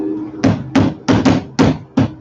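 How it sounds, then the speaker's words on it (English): Six sharp hammer blows strike close by in an uneven rhythm, some in quick pairs, with a low background hum. "Hammer this down a little bit."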